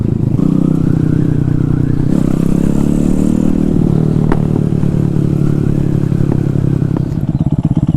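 A motorcycle with a swapped-in 212cc Zongshen engine, a Honda Grom, runs loudly and close, a steady throbbing idle with slight shifts in pitch and a faint rattle.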